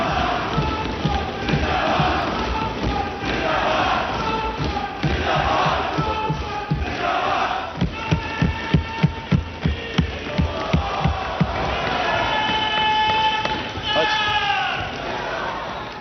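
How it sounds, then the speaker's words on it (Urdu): Members in a national assembly chant slogans in unison, Naara-e-Takbeer and Imran Khan Zindabad, loud rhythmic group shouts with pounding desk beats and crowd noise. "ایوان میں نعرہ تکبیر اور عمران خان زندہ باد کے نعرے لگ رہے تھے"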